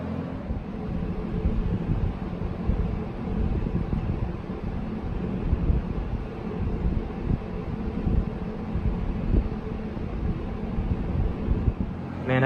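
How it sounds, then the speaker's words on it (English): A 1970s Electrohome 652-1 20-inch box fan runs on low speed with a steady, smooth whooshing drone and a low motor hum that holds constant and close throughout, with no talking. "Man, I could listen to this fan all day. Such a soothing sound."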